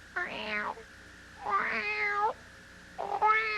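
A pet kitten mews three times, each a drawn-out, high, wavering cry with short pauses between, close and clear against a quiet room.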